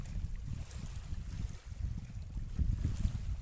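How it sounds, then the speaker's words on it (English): Strong coastal breeze on the Isle of Wight shore, gusting as low rumbling buffets against the microphone, swelling and easing over a few seconds with no voices. "It's pretty windy"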